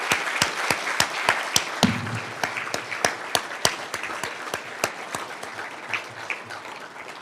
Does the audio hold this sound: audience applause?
yes